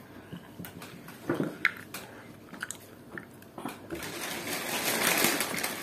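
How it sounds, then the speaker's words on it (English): Chewy Malaysian sweet being chewed close to the mouth, soft wet biting and squelching bursts at an irregular pace, growing into a denser, louder mash of chewing toward the end. "a chewy sweet, just chew it."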